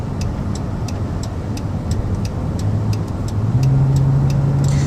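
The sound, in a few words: 2011 Dodge Caravan mobility van driving, merging into traffic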